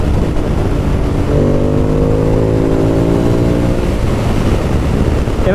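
A 2016 Ducati Monster 821 motorcycle being ridden, its engine loud and steady under heavy wind rush, with a rising engine tone partway through that then settles back, no talking.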